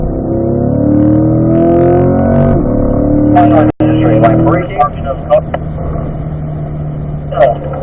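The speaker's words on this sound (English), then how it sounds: "accelerate out, Mark, up to 4th." A race car engine climbs in pitch under acceleration, then cuts briefly at the upshift into fourth gear and pulls again with a lower, rougher roar. Someone talks over the engine noise.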